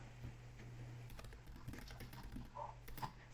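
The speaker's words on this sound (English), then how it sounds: "I'll go ahead and type today's date" Quick, faint taps on a computer keyboard as the date is entered, arriving in short irregular runs over a low steady hum in a quiet office.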